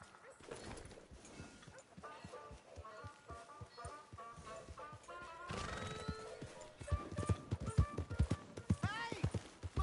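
A horse's hooves clip-clop and then gallop on the ground in Red Dead Redemption 2, rhythmic thuds building louder toward the end amid game sounds and occasional speech.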